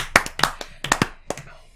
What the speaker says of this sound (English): Slow clap for Brandy O'Kelly Bagley